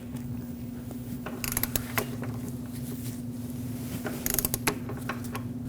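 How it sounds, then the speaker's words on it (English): A torque wrench tightens the mounting nut on a front lower control arm of a 2006-2015 Lexus IS250. Two short clusters of ratcheting clicks and creaks sit over a steady low mechanical hum. "Torque this mounting nut to 88 foot-pounds."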